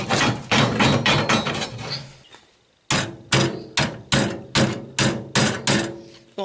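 Sheet metal on a Citroën Traction 11B is hammered over a square iron bar to fold it: a run of ringing metallic blows, a brief pause, then evenly spaced strikes close by.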